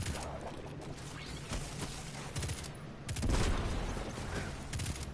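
Gunfire from weapons in the video game Destiny 2 crackles as dense, continuous bursts of shots, with a louder stretch of heavy firing partway through.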